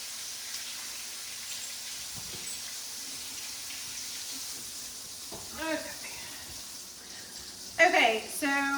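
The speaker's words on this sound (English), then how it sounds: "Okay, so we're cooking our steaks nicely." Steaks frying in a pan on a home stove, a steady low sizzle running throughout with a faint tap of water nearby and a few brief clinks of utensils near the end.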